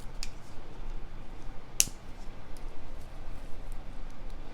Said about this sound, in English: I am also going to cut the shanks off of these roses.